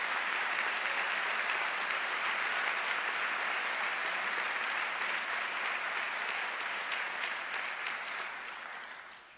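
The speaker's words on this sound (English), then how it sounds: "Let's give a round of applause as they stand and wave for our senior staff." A large assembly hall audience at the Arkansas Boys State opening applauds senior staff, a thick continuous roar of clapping that holds steady for several seconds before gradually tapering off near the end.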